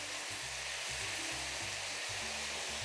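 Chicken pieces for a ginger cashew stir fry sizzle steadily in a hot pan, a continuous broadband frying hiss with low pulsing undertones, close and fairly loud throughout.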